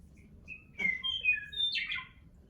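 A run of bright, bird-like piano notes mimicking a meadowlark's song, quick trilling figures over a quiet low background.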